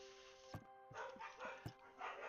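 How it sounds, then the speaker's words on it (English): Neighbour's dogs bark during a home gaming session: two sharp barks and several softer yips, faint and somewhat distant, over a steady background hum. "the dogs are freaking out for some reason"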